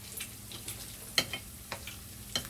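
Bacon fries in a pan with a quiet, steady sizzle, scattered sharp pops and crackles rising over the soft hiss, close and alone without talk.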